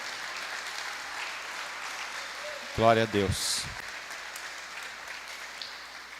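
A church congregation claps softly in a continuous, distant wash of applause. Midway through, a single voice calls out a short exclamation over it.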